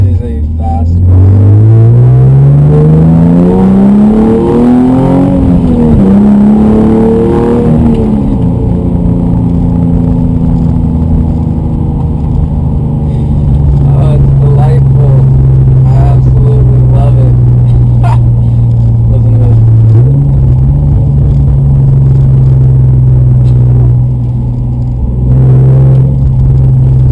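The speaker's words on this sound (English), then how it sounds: "At this point, it is a fast car." A fast 430-horsepower car revs hard, its engine pitch climbing and falling loudly before settling into a sustained high drone, with a brief step up near the end.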